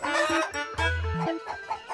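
Pet chicken clucking and squawking close by, a run of short choppy clucks followed by a drawn-out crow-like call, with no talk over it.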